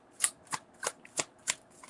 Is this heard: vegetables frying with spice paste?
no